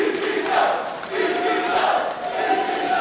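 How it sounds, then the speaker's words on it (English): A wrestling crowd at a live show roars steadily in approval, a dense sustained mass of cheering and shouting voices. "as the crowd shows their approval in our main event here"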